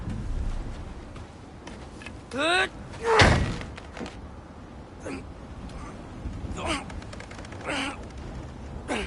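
A frozen door being forced in God of War Ragnarok: a few heavy thumps and a loud slamming strain, with cracking bursts scattered through it, all under frequent game dialogue and grunts.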